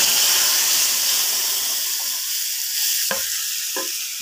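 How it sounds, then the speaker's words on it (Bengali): Ground spice paste sizzles and fries loudly in hot oil in a pan for crab curry, a continuous close hiss that thins out slightly, with a few sharp stirring clinks near the end. "একটু মশলাগুলো লাল লাল ভাজা হয়ে গেলে এর মধ্যে দিয়ে দেবো এই যে পেস্ট করে রাখা মশলাটা"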